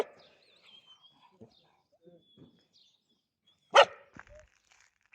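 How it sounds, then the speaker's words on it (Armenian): A dog gives one sharp, loud bark close by against an otherwise quiet outdoor background, with faint bird chirps and small scattered noises before and after it. "ինչ եք հաչում"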